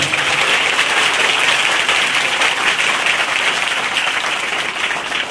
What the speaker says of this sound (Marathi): मराठीसाठी जोरदार टाळ्या होऊन जाऊ दे एकदा